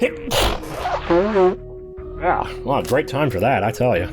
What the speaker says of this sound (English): that was a sneeze. It was quite loud,